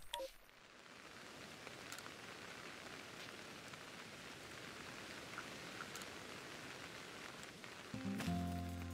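Steady rain hisses evenly in the crimson mirelands setting of the video game Pokémon Legends: Arceus, a dense continuous patter with no talking, before a short tonal game sound cuts in near the end.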